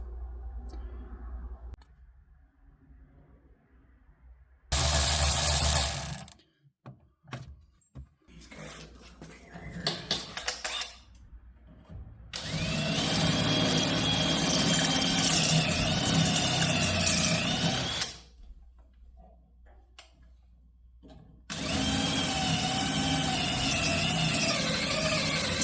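A body saw cuts out the bottom of a car's floor to fit a gated shifter. It comes in loud, harsh buzzing bursts, one short and two longer, separated by quiet gaps with clicks and handling noises.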